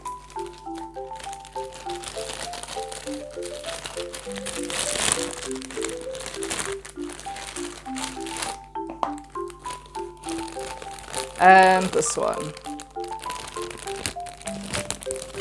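Plastic toy packaging crinkles and crackles steadily as it is torn open, close and fairly loud, with a sharper rustling burst near the end under soft background music and a brief spoken remark.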